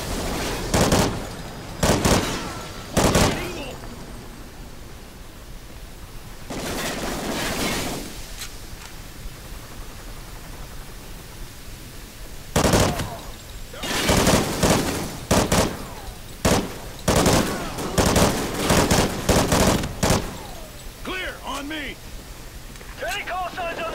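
Call of Duty Ghosts gunfire crackles in sharp clustered bursts of rifle shots between stretches of rumbling ambience, with soldiers' voices calling out between the volleys.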